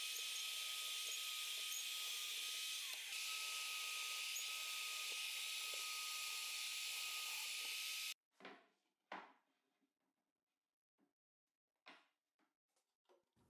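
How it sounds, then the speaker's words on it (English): A power drill bores holes through wooden table top pieces with a continuous whirring drone for several seconds, then stops, followed by a few scattered knocks and rubs of wood. "mark and drill the necessary holes to join the two top pieces together"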